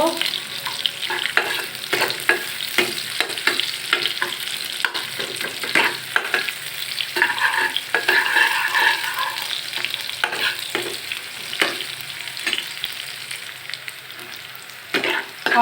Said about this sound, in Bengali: আমার তেলটা গরম হয়ে এসেছে, এখন দিয়ে দিব পেঁয়াজ কুচি।